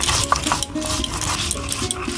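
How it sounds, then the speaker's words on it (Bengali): About ten chillies are ground into a paste, giving close, rhythmic scraping and grinding strokes repeated in quick succession. "এখন আমি লঙ্কা বেটে নেব।"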